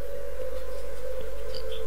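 An ambulance siren holds a steady, loud wailing tone, sounding alone without any talk.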